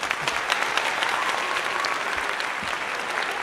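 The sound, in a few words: applause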